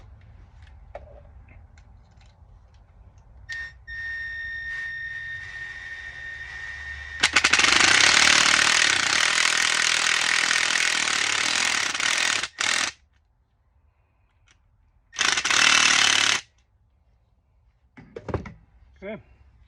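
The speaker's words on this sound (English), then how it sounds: "Let's sink the second screw here." A power driver sinks a screw into wood during a transducer bar build, a loud sustained whirring burst of about five seconds followed by a shorter second burst, with quiet clicks and handling noises between.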